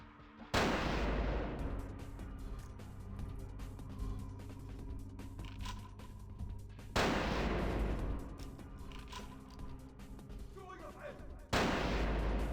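Gunfire in the Vampire: The Masquerade Bloodlines video game: three loud, booming shots spaced several seconds apart, each with a long rumbling decay over a quiet background.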